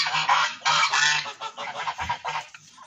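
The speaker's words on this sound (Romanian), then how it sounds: "Asta este gâsca." A goose among a small backyard flock honks in a run of loud, close calls, several bursts with short gaps, with no talk over it.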